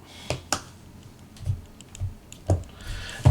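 Trackpad on an Asus ROG Flow Z13 gaming tablet being pressed, several sharp plastic clicks at uneven intervals with a few softer taps between them, close and alone with no voices.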